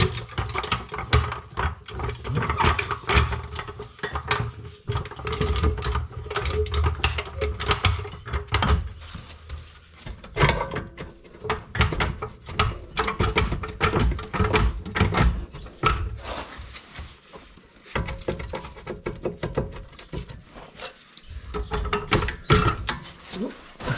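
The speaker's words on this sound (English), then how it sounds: "Just put a jack onto the axle and help it up" Repeated close mechanical clicking and grinding of a car jack working steadily under the rear axle of a Fiat 500, with no talk.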